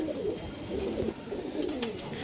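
High-flyer pigeons at a home loft coo in low, rolling phrases that repeat steadily and fairly close, with no voices over them.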